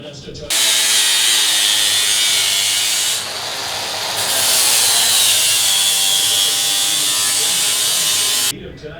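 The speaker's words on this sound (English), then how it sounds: "let's dress it up with the sander now. Try to not make it look like a weld." A power sander smoothing a weld on a metal tree sculpture, loud and close, with a continuous high whine that dips briefly as pressure shifts, then cuts off abruptly.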